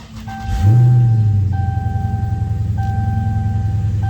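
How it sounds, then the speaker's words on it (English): A convertible car's engine starts up and settles into a deep, steady exhaust rumble, with a repeating electronic chime sounding over it. "It's got a pretty decent exhaust."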